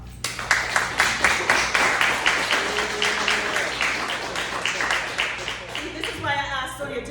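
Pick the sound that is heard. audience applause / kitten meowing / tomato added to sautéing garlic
audience applause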